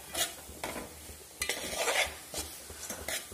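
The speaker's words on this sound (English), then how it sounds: "Let it just cook for a little while. Just mix it properly." Tomato rice is stirred in a frying pan, the utensil scraping and clinking in several uneven strokes over a soft sizzle, fairly close, with no talking.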